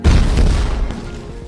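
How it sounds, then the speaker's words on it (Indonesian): Explosives go off in a single loud, deep boom that rolls and slowly fades over about a second and a half. "bahan peledak ini sebenarnya diledakkan oleh Karl"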